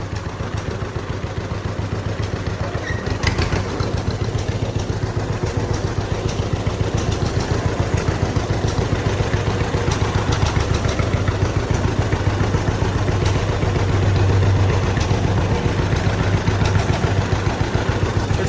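An old John Deere Model B tractor engine chugs with a steady, rhythmic two-cylinder putt-putt while backing out, loud and close for the whole stretch.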